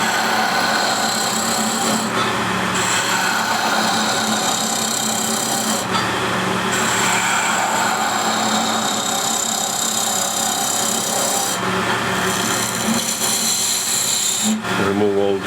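A skew chisel takes a peeling cut on spinning wood on a wood lathe, giving a continuous scraping, hissing drone over the motor hum, briefly dropping in a few short pauses as the tool lifts.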